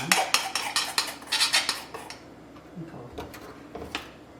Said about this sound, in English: So now I'm going to spread out my icing and put that on.